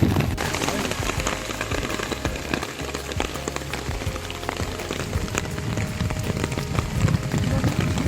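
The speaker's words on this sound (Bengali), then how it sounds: "জামটঙ্গে ঘুরতে এসে সেই ঝুম বৃষ্টি" Heavy monsoon rain pours near a bridge in hilly Sylhet country at the Meghalaya border, a dense, constant hiss and patter that fills the whole stretch without letup.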